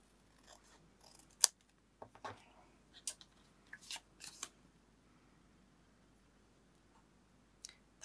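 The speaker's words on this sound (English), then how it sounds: "I might actually cut that a little bit shorter." Scissors snip paper for a 6x8 scrapbook album in a handful of short, crisp cuts scattered through a quiet room, with brief rustles between them and no talking.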